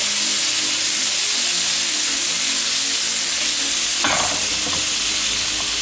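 Eggplant frying in a pan sizzles loudly and steadily while being stirred, with a sharper scraping stir and splash of hissing a little past the midpoint.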